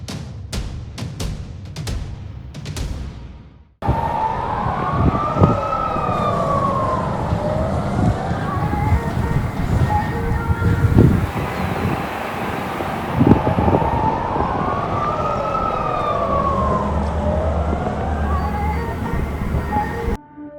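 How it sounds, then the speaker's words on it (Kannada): Air raid sirens in Israel wail, rising and falling in long slow sweeps over a rumbling background, preceded by a few sharp beeps; loud and continuous. "ಇಸ್ರೇಲ್ನ ಅನೇಕ ಭಾಗಗಳಲ್ಲಿ ವಾಯು ದಾಳಿಯ ಸೈರನ್ಗಳು ಮೊಳಗಿದ್ದಾವೆ"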